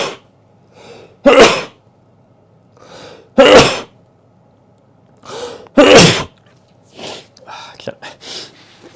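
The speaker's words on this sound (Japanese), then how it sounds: "ちょっとくしゃみですよ。" Three sharp, loud sneezes burst out a couple of seconds apart, with soft murmured speech and breaths between them, outdoors in cold winter weather.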